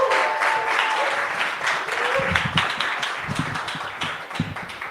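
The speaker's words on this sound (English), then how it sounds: "please put your hands together for Mr." Applause from an audience at a live games industry talk in Glasgow, a moderate burst of clapping that carries on evenly for several seconds with a few sharper claps close by.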